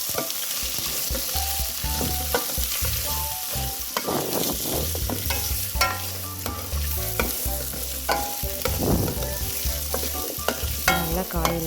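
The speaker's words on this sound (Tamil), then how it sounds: "நல்லா காயெல்லாம் பார்த்திங்கன்னா நல்லா எண்ணெயில் வளங்குற அளவுக்கு நல்லா நம்ம கிளறி விட்டுடலாம்." Cut vegetables for masala kalyana sambar frying in oil in a pan, with steady sizzling and repeated scraping stirs of a utensil, close and continuous.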